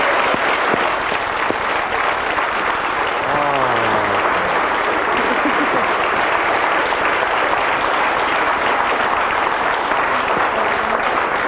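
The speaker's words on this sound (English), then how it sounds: "Give them a nice round of applause" A studio audience at a 1987 television game show applauds the contestants, a loud and sustained wall of clapping that keeps a constant level throughout, with a brief voice near the start.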